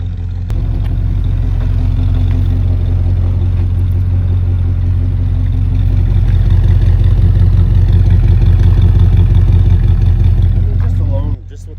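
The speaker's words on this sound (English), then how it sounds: "It really does sound powerful, even though it's just idling." A 1968 collector car's engine idles close by, a loud, deep, steady rumble with a faint rhythmic lope and light mechanical clatter that holds for about eleven seconds before cutting off sharply.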